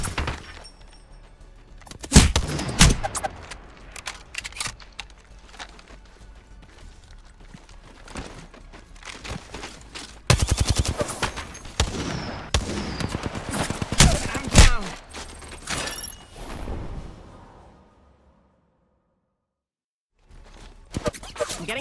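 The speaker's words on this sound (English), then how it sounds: "Getting shot." Apex Legends gunfire hitting the player, a dense run of rapid shots and sharp impacts in bursts, loud and close, with a short break near the middle and a near-silent gap toward the end.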